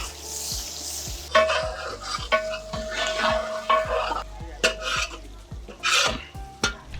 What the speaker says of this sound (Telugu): ఉల్లిగడ్డ గిట్ట వేస్తున్నా.